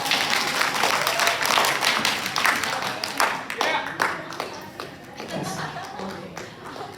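Classroom applause for a teacher: a small group claps unevenly, with sharp individual hand slaps and taps standing out, loud at first and then thinning out toward the end, with faint voices mixed in.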